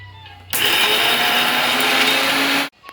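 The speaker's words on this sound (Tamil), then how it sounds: "அரைச்சி வச்ச தேங்காயோட இப்போ வரக்கொத்தமல்லியும் துவரம் பருப்பும் வறுத்ததை போட்டு சேர்த்து அரைக்க போகிறோம்" A mixer grinder blending coconut with roasted dried coriander and toor dal for thogayal, a loud close whirring roar that starts abruptly, holds steady for about two seconds, then cuts off.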